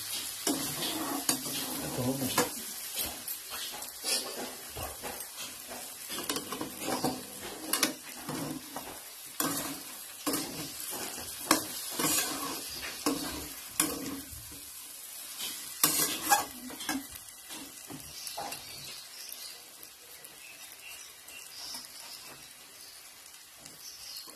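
Spiced chicken kosha being stirred in a pan with black pepper: a steady sizzle under repeated scraping, clattering spoon strokes, close and busy, with no talking.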